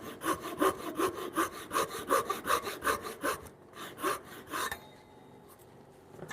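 A hand saw cutting a small wooden timber frame toy block in a home woodworking shop, with steady rhythmic back-and-forth strokes up close that slow, then stop, leaving faint quiet handling.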